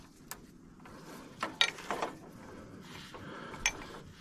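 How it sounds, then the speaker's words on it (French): A socket wrench loosening a long bolt on a Renault Megane 4 during an accessory belt replacement, giving a few quick ratcheting clicks and metallic rattles in short bursts, close and fairly quiet, with no talk. "Donc il faut continuer de desserrer à la clé."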